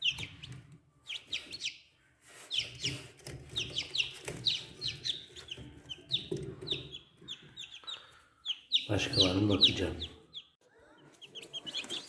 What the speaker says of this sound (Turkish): Bu kuluçkamızdan da 21 tane civciv aldık.